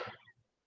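A single short cough at the very start, fairly close, followed by near silence and a sudden loud onset at the end.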